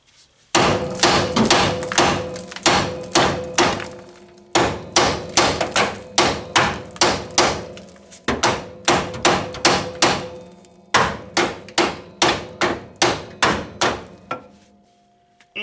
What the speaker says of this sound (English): the best way I found to do that is just take a hammer and hit it on both sides